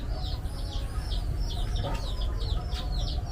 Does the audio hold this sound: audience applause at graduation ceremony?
no